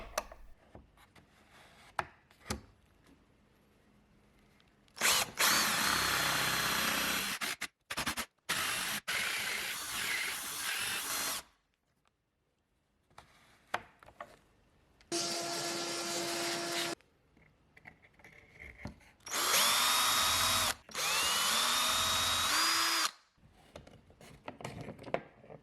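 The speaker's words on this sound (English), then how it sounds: "Then the drill bit gets locked onto the jig like so." A power drill locked onto a jig whirs loudly in several long bursts boring a cabinet hinge mortise, its pitch rising and falling, separated by pauses with clicks and handling noises.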